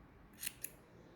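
Two quick snips of scissors cutting yarn hair on a crocheted amigurumi Santa, crisp and close against a quiet room.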